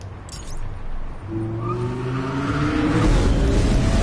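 A car engine in the video game Batman: The Enemy Within revs up close by, its pitch climbing steadily as the vehicle pulls away, with rumbling road noise underneath.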